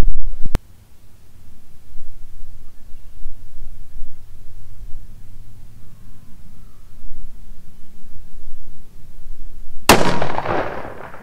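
A .308 FTR rifle fired at a golf ball on a distant range, one sharp loud crack at the start and another at the end, with quiet outdoor rumble in between.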